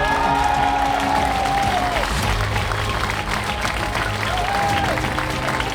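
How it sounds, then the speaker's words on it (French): Graduation ceremony crowd applauding continuously, thick sustained clapping with some cheering and a few whistles over it, loud and unbroken for the whole stretch. "on applaudit quand même"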